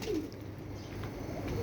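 Pigeons kept by a bird fancier coo softly in the background, a low murmuring coo, faint and somewhat distant, under a dull ambient hum with no speech.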